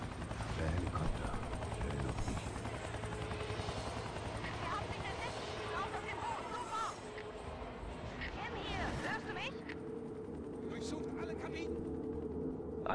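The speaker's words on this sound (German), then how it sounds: "Der Helikopter." Helicopter in the video game XIII, a constant rotor drone with rhythmic chopping, mixed with game effects and bursts of gunfire, while voices speak over it throughout.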